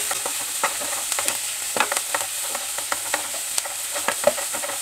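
Chopped onions and green chillies sautéing in a pan for a palak paneer dish, a steady soft sizzle broken by repeated scraping clicks as a spoon stirs, with no one speaking.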